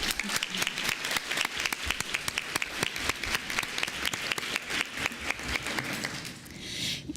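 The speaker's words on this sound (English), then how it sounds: "Let's give her another round of applause." An audience at a New York State dairy ambassador competition gives steady, dense applause that fills the room for several seconds before thinning out at the end.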